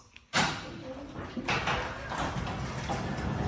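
A Genie wall-mount garage door opener on an outside drum starts up with a sudden clunk, then keeps up a steady mechanical whirring rumble as the door runs, close and fairly loud.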